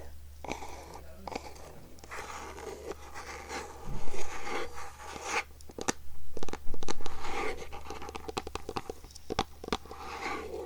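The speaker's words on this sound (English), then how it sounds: "I love wood sounds, especially like scratching on wood." Scratching on wood as an ASMR trigger: close, dry rasping scrapes and crunchy rubs in irregular bursts, some stronger strokes midway, quiet throughout.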